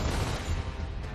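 Gunfire in the video game Gears of War: Ultimate Edition, a dense, continuous burst of shots that fills the short moment with a steady roar.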